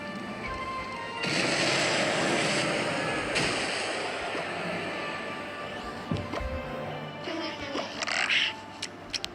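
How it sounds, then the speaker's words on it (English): Mortar firing and battle effects in the mobile game Clash Royale, a dense loud wash of booms and impacts, with sharper hits and crashes later, under background game sounds. "I'm gonna go for a mortar here."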